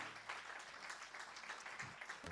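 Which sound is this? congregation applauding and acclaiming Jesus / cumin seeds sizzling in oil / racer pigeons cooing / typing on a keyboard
congregation applauding and acclaiming Jesus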